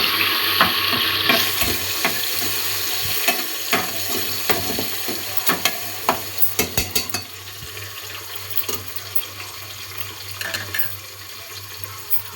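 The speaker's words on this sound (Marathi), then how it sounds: "आता आपण यात घालूया टोमॅटो" Tomatoes dropped into hot garlic tempering sizzle and fry in a pan, with a steady hiss, clinks of a stirring spoon and scattered crackles, no talking.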